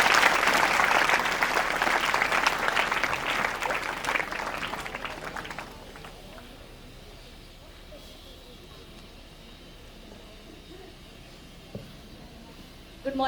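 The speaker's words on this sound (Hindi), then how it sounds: "जोरदार तालियों से स्वागत कीजिए" A seminar audience at a school gives strong, dense applause to welcome a guest speaker. The clapping is loud for about five seconds, then drops off into a quiet room with a few scattered claps.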